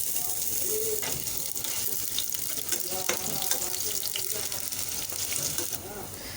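Onions frying in hot oil in a pan, a steady close crackling sizzle that runs throughout, with soft stirring and scraping sounds.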